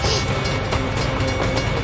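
A train rolls past in the American Truck Simulator video game, giving a steady, loud rumble with dense rail noise that runs unbroken through the moment.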